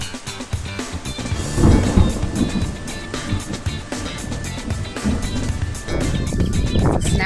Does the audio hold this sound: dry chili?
no